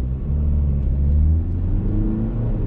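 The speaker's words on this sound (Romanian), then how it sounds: "Ok, accelerația este mult mai puternică." A Skoda Octavia 2.0 diesel with a DSG gearbox accelerates hard in sport mode, a loud, deep engine rumble that builds steadily, heard from inside the cabin.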